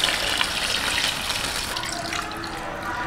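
Water pours steadily into a wok of pork trotters being braised with beer, spices and aromatics, a continuous close splashing fill that tapers slightly toward the end.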